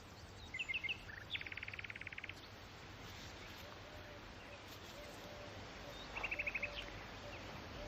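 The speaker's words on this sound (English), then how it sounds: "That's a nightingale." A nightingale sings faintly in the distance, short rapid trilled phrases separated by long pauses over a steady outdoor hiss of wind and insects.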